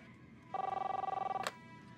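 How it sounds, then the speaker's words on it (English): A telephone rings in the Captain Spirit video game: one loud, close electronic ringing burst of about a second with a fast warbling pulse, sounding alone over a quiet room. "Chris, answer the phone, please."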